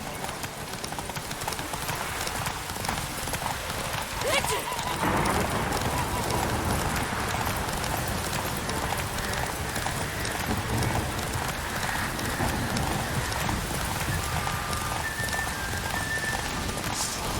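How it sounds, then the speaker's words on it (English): A horse gallops in the video game The Witcher 3: Hearts of Stone, with steady rhythmic hoofbeats over a bed of rain and voices talking on top. "My God, Roach, come on, man, stick to the fucking racetrack. Giddy up"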